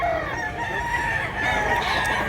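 Chickens and roosters call in a backyard, with a drawn-out crow and scattered clucks at moderate distance and no voices.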